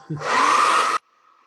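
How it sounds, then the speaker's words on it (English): A hair dryer switches on and blows with a loud, steady whoosh for under a second, then cuts off, leaving a faint hum. "hit this with the hair dryer"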